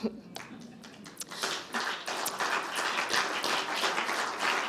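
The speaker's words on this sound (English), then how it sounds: "That was the applause and the conference vibes going out to you." A conference audience at the Global TVET Forum breaks into applause, a crowd of many hands clapping steadily and building slightly for several seconds in a large room.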